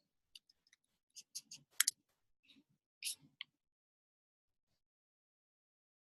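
Sparse computer keyboard taps and mouse clicks, close and quiet, in a few short bursts separated by silence.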